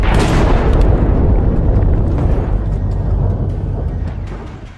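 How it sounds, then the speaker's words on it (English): A tank struck by an FPV drone explodes in a loud rumbling blast with crackling debris, the roar slowly fading over several seconds. "triggering a powerful explosion"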